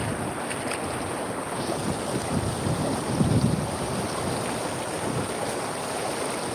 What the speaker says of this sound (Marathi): बघू शकता मित्रांनो कसा पूर आला आहे नदीला आपल्या